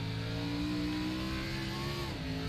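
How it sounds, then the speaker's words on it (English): A race car's engine at Daytona holds a steady, loud, droning pitch, then dips slightly as the revs change near the end. "get those RPMs revving back up into the corner"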